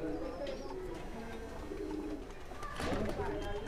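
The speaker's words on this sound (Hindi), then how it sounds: "ये इनके कबूतर।" Pigeons in a breeding loft give soft, repeated throaty coos close by, with faint wing flutters and background murmur of someone talking quietly.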